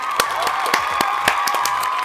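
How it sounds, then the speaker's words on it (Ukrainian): Applause and cheering from a studio audience on a cooking-comedy show, a short burst of crowd clapping with a few sharp accents over a steady tonal hum. "під ваші бурні оплески ми переходимо на кухню"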